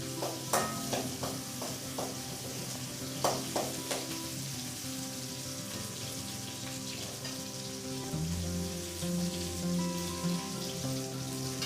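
Ingredients for fenugreek kuzhambu sauté in a pan with a steady close sizzle and crackle, broken by occasional scrapes and taps of a spatula stirring, with no talking.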